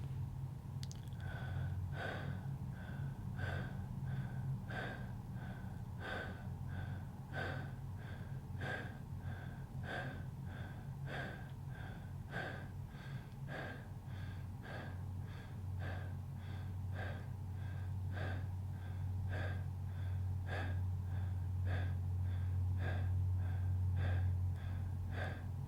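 A person taking 25 connected breaths through the nose or mouth in a guided breathwork session, a steady rhythmic series of audible inhales and exhales, close and fairly soft, with a low musical drone underneath.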